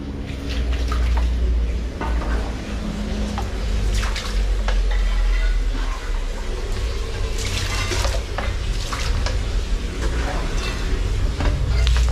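Water is poured and splashed across a prayer room floor during cleaning, with repeated sloshing splashes and scraping against a steady background rush, while a person talks intermittently.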